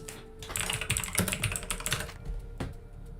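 Rapid typing on a computer keyboard during a typing speed test, with dense clusters of close, crisp key clicks and a brief pause before a final few strokes. No voices are heard.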